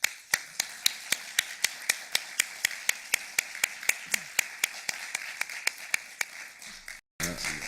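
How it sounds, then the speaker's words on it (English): Hands clapping to welcome a lecturer before a talk on Chinese painting, heard as a single steady, evenly paced series of crisp claps, close and regular, stopping abruptly near the end. "avec une salve d'applaudissements préalables"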